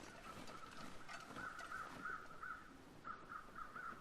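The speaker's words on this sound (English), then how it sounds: "those birds over there probably mean there's a corpse or something over that way" Crows cawing in The Long Dark, a series of repeated harsh calls from a distance, several in a row, then a pause, then another short run, over a quiet windy background.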